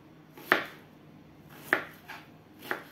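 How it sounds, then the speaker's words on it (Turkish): Three sharp knife chops through potatoes on a cutting board, spaced about a second apart, close and clear in a quiet kitchen. "İri iri doğradı patatesleri,"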